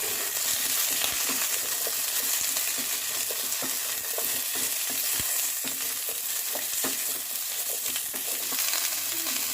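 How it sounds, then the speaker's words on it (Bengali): Vegetables frying in oil in a pan, a steady loud sizzle running throughout with frequent scraping stirs and small crackles, close by and with no talking. "প্রথমে এই সবজিগুলো দিয়ে ভেজে নেব"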